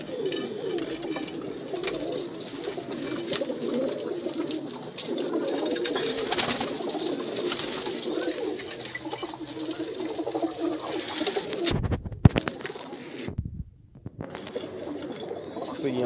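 Domestic pigeons coo in low, repeated throaty murmurs close by, layered over one another continuously, with a couple of brief handling bumps near the end.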